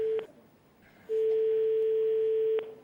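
A telephone line rings during a call-in segment of a French TV game show, heard as a short electronic beep followed by a long, steady, loud ringing tone with no talking.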